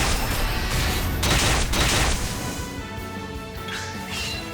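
Shooting Stars attack from the video game Octopath Traveler: a dense, loud barrage of crashing impacts and bright shimmering bursts, with a few stronger swells, followed by a fading sparkling tail.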